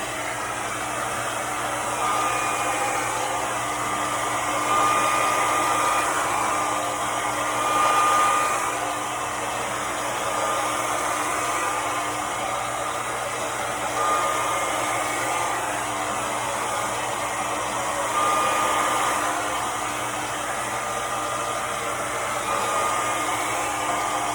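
A handheld hair dryer blows steadily and close for the whole stretch, a continuous broadband whoosh with a fixed motor whine, swelling slightly as it is moved while drying hair during a morning routine for work.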